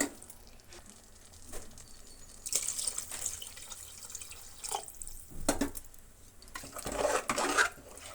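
Water splashes and trickles into a metal pot of rice in several separate pours, with light clinks of the vessel between them.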